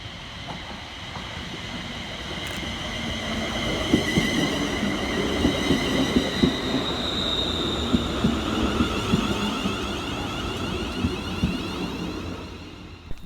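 A Scotrail class 380 electric train pulls into Paisley Gilmour Street station, with a steady rumble of wheels over rails, rhythmic clacks over joints and a faint high whine, continuous and moderately close, no voices.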